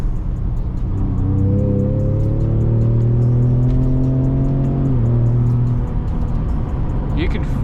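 A Ford Raptor pickup truck engine in sport mode revs up steadily, its pitch rising as it accelerates, a loud continuous roar close by with a rhythmic ticking layered on top.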